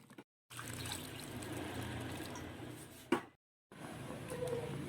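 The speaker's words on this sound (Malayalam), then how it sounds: "ഇനി ഇതിലേക്ക് കുറച്ച് വെള്ളം ഒഴിച്ച് കൊടുക്കാം." Water is poured into a pan of chicken mulakittathu curry, a steady close splashing pour that breaks off briefly, ends with a sharp knock, then resumes.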